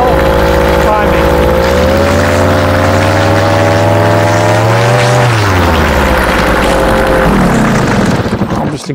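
A paramotor engine revs up steadily while being primed, its loud droning pitch climbing and holding, then dropping back toward idle near the end.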